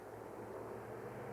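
A small private plane drones faintly in the distance over the foggy coast at Fort Ross, California, a steady low hum that stays even and never rises or falls.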